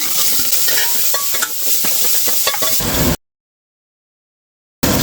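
Small onions sautéing in a pan for a vegetable soup, a loud close sizzle with stirring scrapes for about three seconds, then sudden silence before the sizzle resumes briefly.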